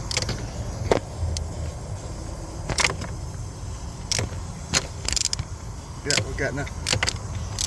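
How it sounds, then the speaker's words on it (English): A 3/8 drive ratchet works a turbo bolt loose on a 2016 Ford Transit with a blown turbo. Sharp, irregular metallic clicks and bursts of ratcheting ring out close by in a garage, and someone speaks briefly. "I've swapped the spanner this time for a 3/8 drive, and that's it, it's going there."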